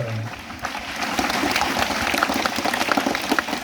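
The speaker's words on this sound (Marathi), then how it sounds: "त्यांसाठी एकदा जोरदार टाळ्या वाजवा" Schoolchildren clap loudly at an Ambedkar Jayanti lecture held at a Zilla Parishad upper primary school, a dense and irregular applause that continues steadily from start to finish.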